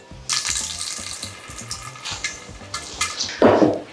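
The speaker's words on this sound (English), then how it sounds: "come over to the sink, and just wring out any moisture" Grated vegetables being wrung out by hand over a kitchen sink, with water dripping and splashing steadily and a louder, wetter squeeze and splatter near the end.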